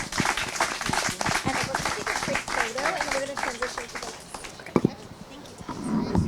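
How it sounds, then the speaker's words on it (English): A crowd claps and cheers, a dense patter of applause with voices mixed in, fading toward the end. "let's give these folks a round of applause."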